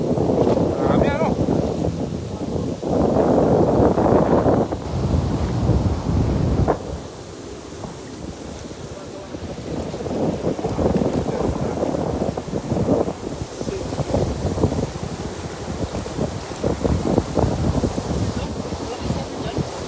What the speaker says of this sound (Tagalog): Malakas talagang hangin, master.